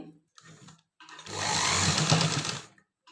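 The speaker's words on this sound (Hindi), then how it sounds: "और अब इसकी मैंने करनी है सिलाई।" A sewing machine stitches a pocket onto pants, its motor whirring steadily for about a second and a half after a couple of brief starts, close and fairly quiet, alone without talk.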